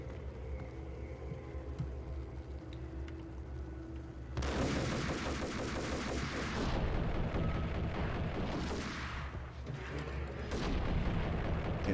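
Gunfire in a video game: quiet background at first, then heavy, loud automatic shooting erupts and keeps going in dense, booming bursts for the rest of the stretch.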